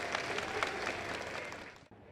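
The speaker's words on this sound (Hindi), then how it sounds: "कृपया जोरदार तालियां बजाएं।" A crowd at a community political rally for Delhi's chief minister breaks into applause, dense clapping that holds steady, then fades and cuts off sharply near the end.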